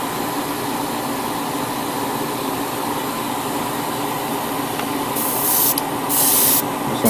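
Spray painting a 1/144 HG Burst Rodi Gundam model kit, a continuous close hiss of the airbrush or spray with a brighter, louder burst of airflow near the end, no talking.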